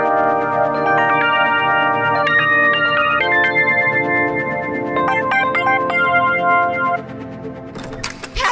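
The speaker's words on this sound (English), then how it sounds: "Olivia, how do I answer the phone?" A phone rings with a repeating electronic melodic ringtone, steady and fairly loud for several seconds, with clattering noises near the end.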